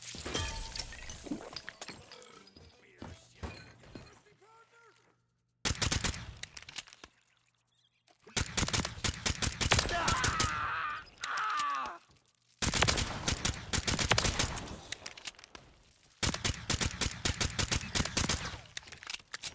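Gunfire in Call of Duty Black Ops 3 on a custom zombies map comes in repeated loud automatic bursts, separated by brief quieter gaps.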